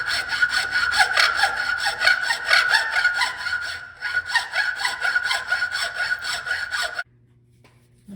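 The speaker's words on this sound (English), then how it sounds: "This is actually a hacksaw. It's meant for cutting metal, but it works fine for cutting wood." A hacksaw cuts through wood in quick, steady back-and-forth strokes, close and loud, with a short pause midway before stopping abruptly.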